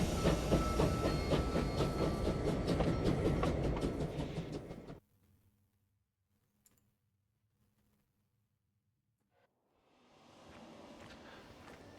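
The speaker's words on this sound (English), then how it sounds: "On the gold train we go." A train rolls along inside the video game Clair Obscur: Expedition 33, a loud steady rumble with rhythmic clatter for the first five seconds. It then drops to near silence and returns more softly toward the end.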